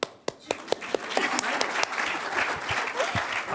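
Steady audience applause at a regional conference welcome, with a few sharp individual claps near the start, then a dense continuous patter of many hands, with faint talk in the background.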